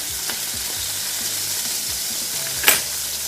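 Steak searing in a hot pan, cooked medium to well done, gives a steady close broadband sizzle with soft scraping stirs and one brief louder spit near the end.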